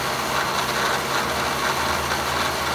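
A milling machine spins at about 3,200 RPM before cutting a Floyd Rose guitar tremolo block, giving a loud, steady mechanical whine and hum with a faint rhythmic rattle, running alone without talk.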